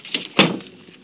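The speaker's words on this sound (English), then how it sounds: "Close the door." A door in the Five Nights at Freddy's plush-themed game shuts with one sharp, loud thud, preceded by brief mechanical rattles and followed by a short fading rumble.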